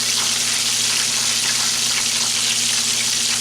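Steady, loud sizzling of oil frying chicken, a dense crackling hiss that continues without pause, with a low constant hum beneath it.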